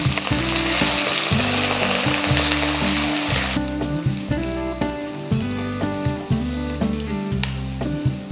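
Garlic, fenugreek seeds, dried red chillies and curry leaves crackle loudly in hot oil, a dense sizzle over the first few seconds that fades to lighter spitting, with background music playing throughout.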